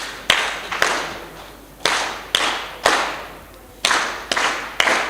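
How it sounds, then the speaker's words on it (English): Audience at the grand launch of a new social centre in Kisumu gives three quick bursts of clapping, each sharp onset decaying away, repeated in a loose rhythm with short pauses between. "Can we just give 3 catty claps to us as being members of the city?"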